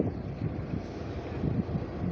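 Strong wind at sea buffets the microphone while fishing for rabbitfish from a boat, a steady roaring rush with low gusty rumble that runs through the whole stretch, with no talk.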